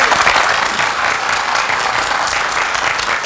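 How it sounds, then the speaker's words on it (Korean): Broad, steady applause from a studio audience on a Korean TV talk show, dense and continuous throughout at moderate loudness with no talk over it. "네, 큰 박수 부탁드리겠습니다."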